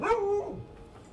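A puppy gives a single sharp, high bark up close, sliding down into a short whimpering yip and then trailing off into quiet.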